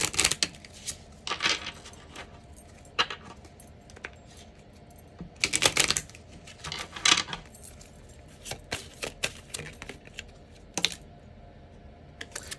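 Tarot cards being shuffled, a series of soft, irregular card riffles and slaps at close range with quiet gaps between them.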